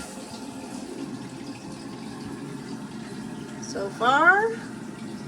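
A toilet tank refills with running water after its supply line is reconnected during a wax ring replacement, with a steady hiss and a brief rising whistle from the fill valve near the end, under a voice.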